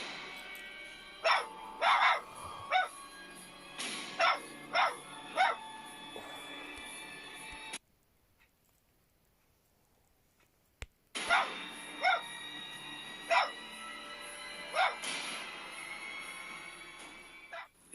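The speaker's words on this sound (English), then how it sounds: "the dog's barking intensifies, and you can even hear the fear in it" A dog barks in loud, repeated bursts that recur across the stretch, stopping for a few seconds of near silence midway and then resuming just as agitated.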